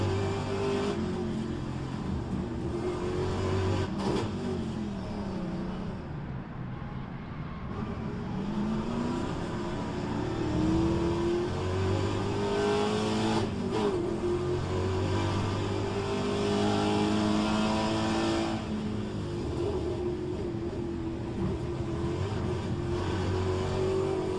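Trans-Am race cars in rFactor 2 roaring around a track, engines revving and shifting continuously, several cars close together, loud and steady for the whole stretch with no talking.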